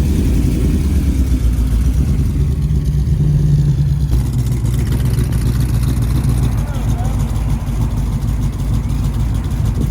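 A car exhaust fitted with an XFORCE controllable exhaust system, rumbling loudly and steadily with a deep low-pitched drone and slight revving swells, heard close and continuous.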